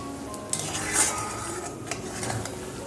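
A cooking pot being rinsed out in a home kitchen while making potol posto, with soft clinks of metal cookware and watery stirring and scraping sounds, fairly quiet and continuous with no talk.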